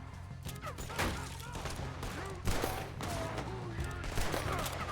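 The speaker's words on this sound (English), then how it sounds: "Just keep shooting till nothing moves." Gunfire in the video game Red Dead Redemption 2: repeated shots and bursts rattle continuously over a busy in-game soundscape.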